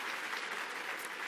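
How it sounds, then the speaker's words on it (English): An audience at a talk on work culture and innovation breaks into brief, dense applause, a short burst of many hands clapping together at a steady level. "Give yourselves a round of applause."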